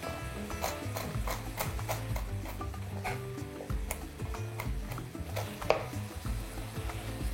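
Pine nuts chopped with a knife for an apple and puff-pastry pie, heard as a steady series of quick, close, crisp knocks on a board over a faint low background hum.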